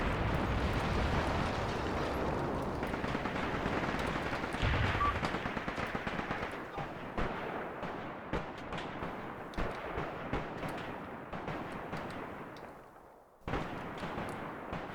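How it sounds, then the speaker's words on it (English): Enemy artillery gun and small-arms fire in the Graviteam Tactics war game, with a constant roar of battle and repeated sharp cracks and bursts, continuous and moderately distant throughout, with one sudden louder blast near the end. "Damn it, this gun is still active."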